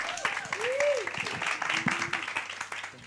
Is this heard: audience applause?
yes